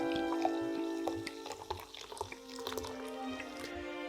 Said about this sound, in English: Slice off a piece and pour yourself a drink to enjoy alongside the pie.